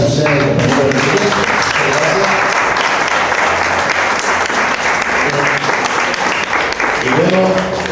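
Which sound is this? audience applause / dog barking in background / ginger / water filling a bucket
audience applause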